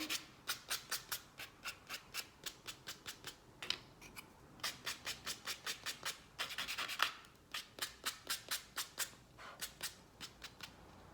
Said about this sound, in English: Just going to sand those little edges smooth with the sanding pad.